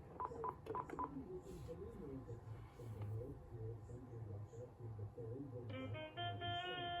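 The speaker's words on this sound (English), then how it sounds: "I'm going to go ahead and do an outgoing call real quick." A Uniden cordless desktop phone places an outgoing call: a quick run of clear touch-tone dialing beeps, then a steady multi-tone signal toward the end, with faint low voice-like murmur in the background.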